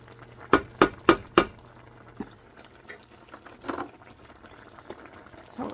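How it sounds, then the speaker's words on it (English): Cranberries bubble in a pot on the stove for cranberry sauce, with four sharp popping bursts early on, then softer scattered pops and a low steady simmer with no voices. "And I am cooking cranberries."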